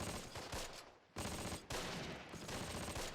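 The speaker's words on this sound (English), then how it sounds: "Just use this damn MG." Machine gun fire in the Close Combat: The Longest Day war strategy game, rapid dense bursts of shots with short pauses between, fairly quiet overall.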